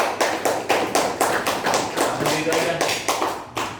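An audience at a school quiz competition final claps in a steady, rhythmic unison beat, loud and close, with a faint voice underneath.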